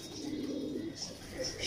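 Mistri Din Missay pigeons give soft throaty cooing, a low sustained burble near by with faint chirps over a quiet background.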